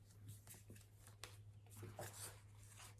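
A deck of oracle cards being shuffled by hand indoors, giving repeated soft riffling and slapping bursts over about three seconds against a faint steady hum.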